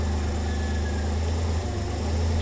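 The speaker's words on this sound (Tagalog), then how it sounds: "after ko ni-revolution ko yung ating makina, tapos nung pagbitaw ko ng accelerator pedal ay medyo hindi na siya ganun kagrabe yung kanyang vibration" A Multicab engine idles steadily and close after being revved, giving a constant low rumble with vibration and no one talking.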